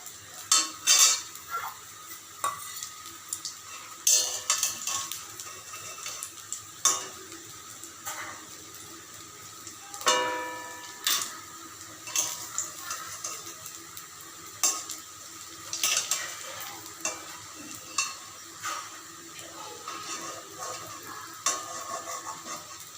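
Oil sizzles steadily in a pan while a utensil clinks and scrapes now and then, lifting water lily flower fritters out one after another.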